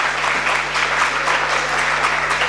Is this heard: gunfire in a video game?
no